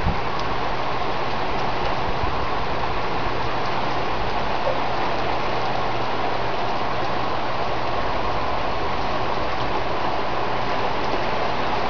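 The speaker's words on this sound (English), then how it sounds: "a torrential downpour that is the prettiest thing I've seen in months and months and months" Steady heavy rain pours down continuously, a dense hiss of drops on surfaces with a low rumble underneath, no voices.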